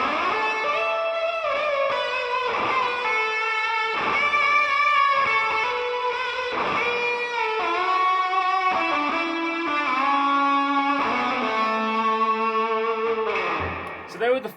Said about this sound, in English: So they were the fuzz tones that I was using on the opening of that track